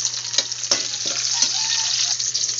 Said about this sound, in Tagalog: Nagigisa na po ako. Lalagay itong bawang.